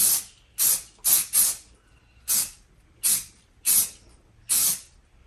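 Aerosol spray paint applied in short bursts through a camo stencil onto a Tracker jon boat, about eight sharp hissing sprays with brief pauses between, close and loud, no talking.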